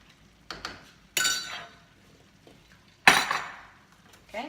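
A spoon clinks and scrapes against a pot while a sweet potato shepherd's pie mixture is stirred, with sharp metallic knocks and rattles at irregular intervals, close by.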